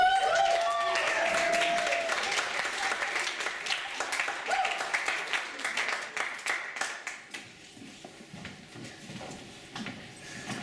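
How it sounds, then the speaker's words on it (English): An audience applauds at a Sheffield University poetry slam, with dense, loud clapping that slowly thins into scattered claps. "Keep clapping."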